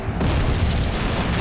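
Bombs burst close to a submarine in the naval game Silent Hunter III, a loud heavy boom swelling into a sustained rumbling roar that fills the short moment without speech.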